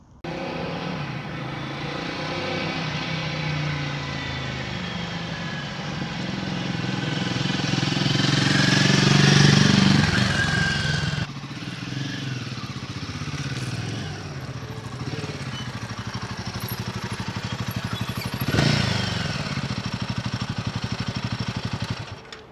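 A Royal Enfield Himalayan 450 motorcycle engine pulls hard, a loud sustained drone rising in pitch then dropping at a gear change before climbing again, with wind rush over the steady note.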